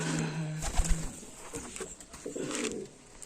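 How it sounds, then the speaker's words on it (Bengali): Pigeons coo close by in low, rolling calls, one drawn-out coo followed by shorter bursts, with faint bird movement around them. "আজকের আপনাদের প্রথম থেকে শেষ অবধি যে কটা পায়রা দেখালাম"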